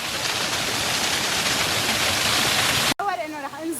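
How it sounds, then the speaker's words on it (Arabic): Loud, steady broadband rush of a waterfall during a hike in Lebanon, filling the first three seconds before cutting abruptly to quieter ambience with a voice speaking. "هيدا بس اول شلال"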